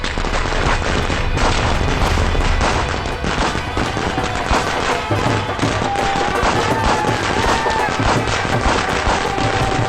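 Continuous loud popping and banging, like a long run of firecrackers exploding nearby, with steady crackle throughout.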